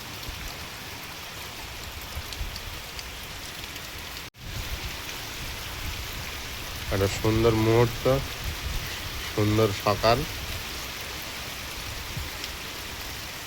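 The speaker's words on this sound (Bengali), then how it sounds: "হঠাৎ এখন বৃষ্টি চলে এসছে।" Steady rain hisses throughout in a village, with a brief break partway; a person speaks briefly over the downpour later on.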